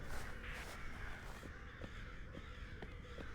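Crows caw repeatedly in the video game We Were Here Forever, a steady run of harsh calls over a dense, noisy in-game ambience, fairly close and continuous with no talk.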